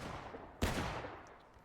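A single sharp musket shot cracks in the video game War of Rights, an American Civil War setting with buck and ball loads, then rings out and fades into a quiet battlefield backdrop.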